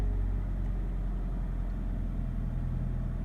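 A Toyota GT-86 with a Subaru FA20 engine idles steadily during a cold-start warm-up, a low, even engine hum heard close and alone throughout.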